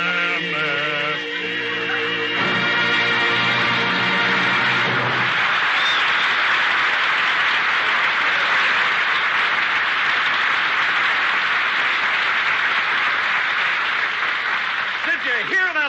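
A radio studio audience on The Jack Benny Program bursts into long, sustained applause that swells and holds for many seconds, following a short stretch of voices and a musical tag at the start.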